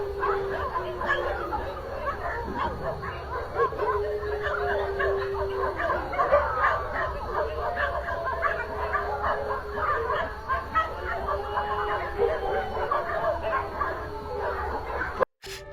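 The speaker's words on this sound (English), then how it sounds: "recorded by a man who came home one day to find his dogs barking hysterically" Several dogs bark and yip hysterically, close and continuous, with whimpering mixed in and a woman's crying running faintly underneath throughout.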